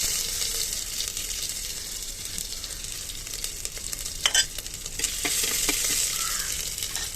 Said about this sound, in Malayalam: അങ്ങനെ വെളിച്ചെണ്ണയിൽ ഇനി കുറച്ച് കടുക് ഇടാം ഇഞ്ചി വെളുത്തുള്ളി ഇട്ട് നല്ലോണം വഴറ്റി വെക്കാം